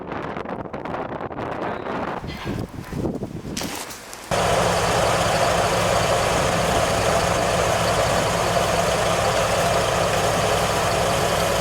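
A 1978 Jeep J20 4x4 plow truck engine idles after warming up, heard first through gusty wind buffeting the microphone, then as a steady, loud, close rumble for the rest of the clip.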